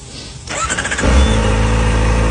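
A Kawasaki ZX-4RR motorcycle engine cranks briefly, then catches and settles into a loud, steady, close idle.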